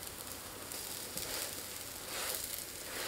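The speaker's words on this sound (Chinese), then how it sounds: "翻面以后继续烙。" A sugar flatbread cooks in an oiled pan after being flipped, giving off a soft, continuous hissing sizzle that rises and falls slightly, quiet and close with no voices.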